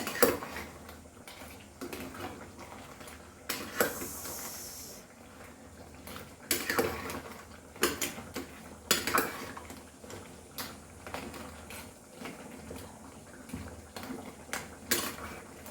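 Metal spoon stirring and scraping crab mango xacuti in a pan, with irregular clinks and scrapes against the metal over a low bubbling simmer, fairly quiet and close.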